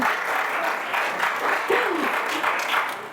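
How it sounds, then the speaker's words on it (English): An audience applauds at a talk, steady sustained clapping from a sizable crowd throughout, with faint voices mixed in. "Let's give you guys a hand."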